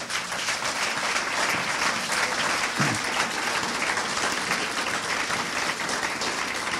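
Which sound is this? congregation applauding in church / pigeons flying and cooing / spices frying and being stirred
congregation applauding in church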